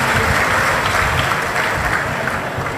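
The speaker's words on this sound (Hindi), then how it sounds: "जोरदार ताली बजाकर स्वागत" Loud, dense applause from a crowd at a Shiv Mahapuran religious discourse welcoming the hosts, sustained clapping close to the microphone with no speech.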